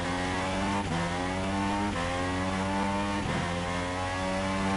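A Red Bull Formula 1 car on soft tyres in a racing video game runs through the final corners of the British Grand Prix circuit, its engine droning loud and steady with short dips and rises as it shifts gears.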